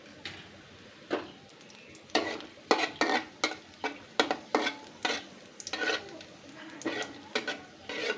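Dried red chillies, slit down the middle, fry in plenty of oil in a wok while a spatula knocks and scrapes in a quick series of sharp strokes over a soft sizzle, nearby and without talk.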